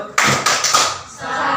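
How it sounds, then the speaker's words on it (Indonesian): A classroom group gives a short burst of applause, a few quick claps rising sharply and fading within a second or two, close and fairly loud. "Tepuk salut untuk Aulia."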